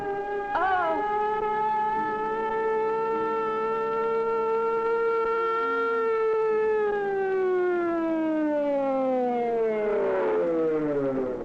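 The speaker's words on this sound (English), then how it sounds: "Here's the ambulance." A loud wailing siren holds a long, slowly falling tone, then sweeps back up, close and continuous from start to finish.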